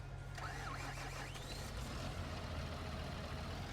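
A Fendt tractor engine in the video game Farming Simulator 19 drones steadily at a low idle, a constant deep rumble with a faint whining tone rising and falling early on, fairly quiet overall.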